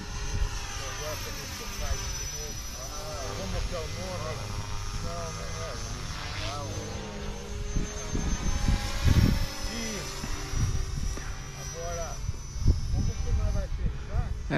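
A small RC model helicopter whines and buzzes overhead, its rotor pitch swelling and falling as it flies a loop, with voices talking alongside.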